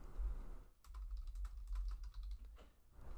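Quiet typing on a computer keyboard, a loose run of soft rapid key clicks with brief pauses, close and alone.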